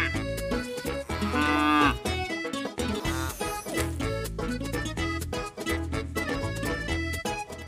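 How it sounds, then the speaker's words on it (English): A cartoon cow's moo sung within an animated preschool animal song, carried over a bright, full musical backing with voices throughout, the moo blending into the melody rather than standing alone. "Sing moo moo moo, the voice of the cow."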